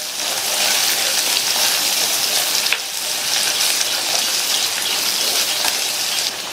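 Crushed garlic and small onions are sautéed in a pan for a Tamil onion kara kuzhambu, making a steady loud sizzle with soft crackle throughout and a short dip partway through.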